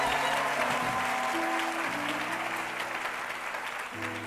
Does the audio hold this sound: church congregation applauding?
yes